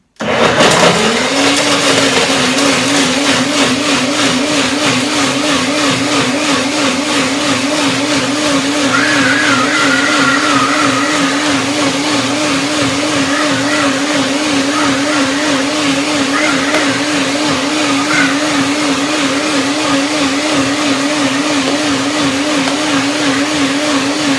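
A blender whirs at full power for over twenty seconds while blending a pineapple-tangerine fruit salad dressing, a loud, steady motor drone with a slightly wavering pitch that starts abruptly and runs without a break.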